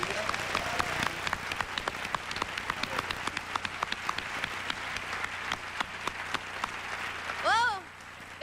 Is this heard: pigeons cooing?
no